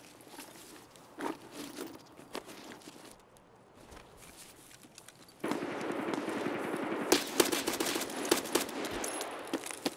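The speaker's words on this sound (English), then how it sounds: "He's getting shot from somewhere else, though." Gunfire in the Escape from Tarkov SPT video game on the Customs map, scattered distant shots early, then a louder stretch of rapid bursts and crackling fire, no talk.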